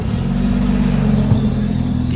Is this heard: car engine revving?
yes